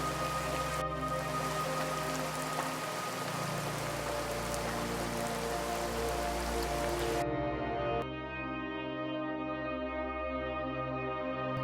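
Heavy rain pours down in a dense, continuous hiss across the whole stretch, loud and close, with a slight shift in tone partway through and no voices over it.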